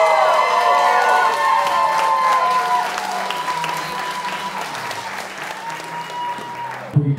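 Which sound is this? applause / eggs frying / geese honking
applause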